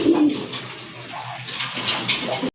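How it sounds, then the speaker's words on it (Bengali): Giribaz and other fancy pigeons at a pigeon sale coo in low, rolling murmurs, the close, steady cooing layered with soft rustling and faint background noise throughout. "আপনাদেরকে কবুতরগুলো দেখাই"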